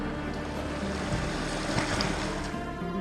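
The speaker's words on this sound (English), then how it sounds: "Check out this river." A river flowing at Grizzly Hunt Falls makes a steady close rushing wash of water, loud and continuous through the short stretch with no voices.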